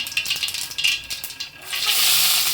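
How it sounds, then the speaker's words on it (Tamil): Mustard seeds splutter in hot oil with a crackling, popping sizzle and some stirring, building into a steady loud fry near the end. "கடுகு பொறிஞ்சோடனே நம்ம பொடியாக நறுக்கி வச்சுருந்தீங்களா வெங்காயம்"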